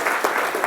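Brief burst of conference audience applause in an office-style room in London, steady clapping filling the moment with a light cheer at the start, mid-loudness and close.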